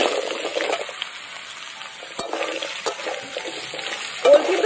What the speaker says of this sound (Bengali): কড়াইতে আবার সর্ষের তেল দিয়ে দেবো ওলে ফোড়ন দিয়ে দেবো জিরে তেজপাতা আর তার সাথে শুকনো লঙ্কা কেটে রাখা ওলগুলো এবার দিয়ে দেবো